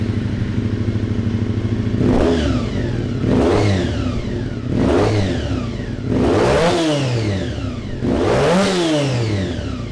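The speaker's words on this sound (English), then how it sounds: "we'll rev up the tacho" Yamaha YZF-R3 motorcycle engine revved repeatedly from idle, five loud close blips that climb sharply in pitch and fall back, each rev stronger than the last, with no talk.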